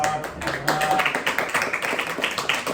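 A room audience applauds at an annual general meeting, a steady patter of many hands clapping close by, with some talk blending into the clapping.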